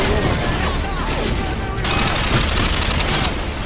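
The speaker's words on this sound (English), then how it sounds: "We're taking heavy fire over here, ladies and gentlemen." Dense, continuous heavy gunfire rattles loudly throughout a Call of Duty Modern Warfare 2 battle in Brazil, with overlapping bursts and booms forming an unbroken wall of sound.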